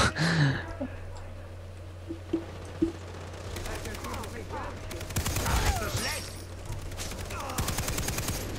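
Rapid bursts of gunfire and automatic weapon fire in the Far Cry 3 video game crackle over sustained game noise, with a player talking over the action.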